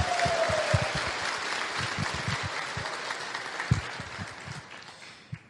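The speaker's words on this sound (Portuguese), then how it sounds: "uma salva de palmas também." An audience at a gathering claps together, a sustained burst of applause with dense, fairly close hand claps that gradually thins and fades out.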